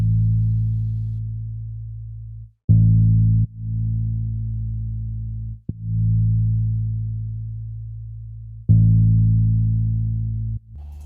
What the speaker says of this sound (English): It is this Liverpool bass.